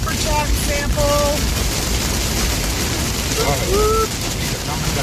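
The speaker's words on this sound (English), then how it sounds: "Pixel, I think you can find some quieter rain." Heavy rain pours steadily and loudly during a storm chase, a dense continuous roar with brief tonal whines layered over it.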